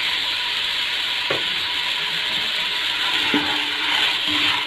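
Spices being tipped into a pan of frying turnip bhujia and stirred, a steady close sizzle running throughout with a couple of brief scraping knocks from the spoon against the pan.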